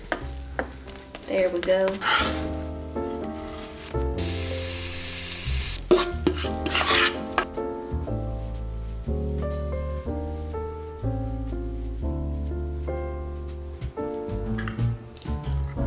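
Food sizzles in a frying pan just after being flipped, the hiss and stirring sitting under steady background music, with a short spoken remark.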